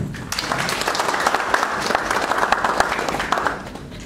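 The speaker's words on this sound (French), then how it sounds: "avec une mention particulière pour les points focaux que je vous demande d'acclamer" An audience applauds the focal points at a workshop reviewing a governance program's implementation: steady, dense clapping from a crowd fills the whole stretch, then fades slightly near the end.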